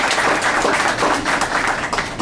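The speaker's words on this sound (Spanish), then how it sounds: "lo recibimos con un gran aplauso al maestro Miguel Ángel" A conference audience at a human rights talk in Guanajuato applauds a speaker as he is welcomed: a short burst of loud, close clapping.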